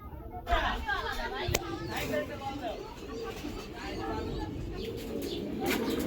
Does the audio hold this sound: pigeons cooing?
yes